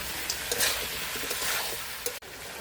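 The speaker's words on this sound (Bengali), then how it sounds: "ভাজা ভাজা হইতেছে" Duck meat frying in a pan: a steady, close sizzle with scraping stirring strokes and a brief clunk near the end.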